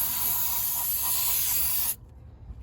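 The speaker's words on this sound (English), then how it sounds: "we can grab our brake cleaner and just spray it down" Brake cleaner sprays from an aerosol can onto a car wheel hub during a home brake job, a loud, steady, close hiss that stops abruptly after about two seconds.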